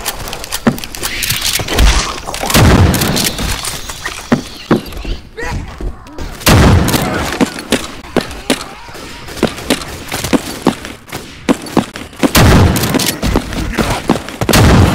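Pistol gunfire in the co-op game Left 4 Dead 2 on the Sunrise Carnival custom campaign, many sharp shots in irregular bursts among dense chaotic in-game action, loud and close, with brief lulls.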